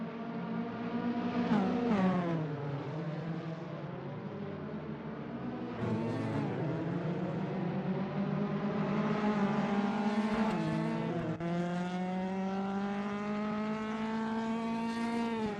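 Historic racing cars lap Snetterton circuit, their engines a continuous loud howl that rises and falls in pitch through gear changes as several cars run close together, with no speech over it.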